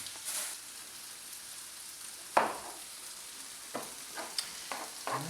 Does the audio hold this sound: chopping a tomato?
yes